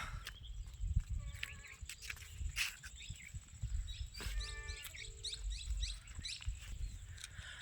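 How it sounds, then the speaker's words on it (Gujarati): Loud, wailing peacock calls ring out twice in open air in the Gir forest, surrounded by chirping birds and a steady low outdoor rumble. "અમારા મોરનો ટહુકાર હો સાંભળો એકવાર મારા ભાઈઓ"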